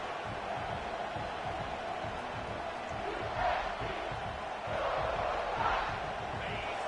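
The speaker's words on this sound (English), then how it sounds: "This crowd trying to make life miserable for this offense." A football stadium crowd roars steadily in the background at a college game, swelling slightly in two waves, with no clear talk over it.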